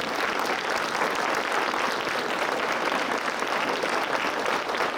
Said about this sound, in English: The parents, please stand up and clap for the teachers.